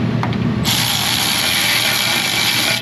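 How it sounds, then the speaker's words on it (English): A power tool with a 3/8 socket on a quarter-inch drive spins a bolt into the rear brake of a 2014 Mercedes SUV, a steady close mechanical whir starting abruptly after a brief clunk. "I'm going to use a power tool this time."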